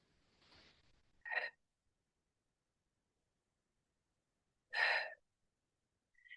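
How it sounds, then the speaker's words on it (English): Deep breathing during a strength and balance exercise session: a soft breath, then two sharp, close exhalations several seconds apart with silence between them. "nice deep breaths"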